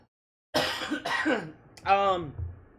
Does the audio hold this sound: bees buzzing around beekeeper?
no